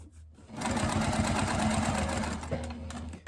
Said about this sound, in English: I always like to add a few stay stitches